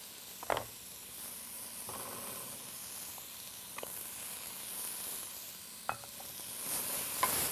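Soup with rough-chopped smoked jalapeños being stirred in a pot: a faint steady hiss runs throughout, broken by a few sharp spoon knocks against the pot at irregular intervals.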